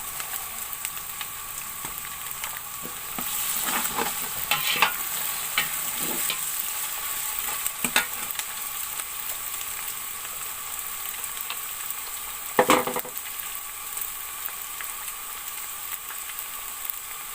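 Garlic-ginger paste and salt stirred into browned onions frying in a pot, giving a steady sizzle with scattered scraping stirs and one sharp clank near the end, heard alone without talk.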